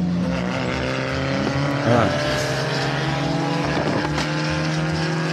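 Fiat Uno cars race past in a pack, their engines buzzing loud and steady with pitch sweeps as cars pass close, and a brief voice comes in at one point.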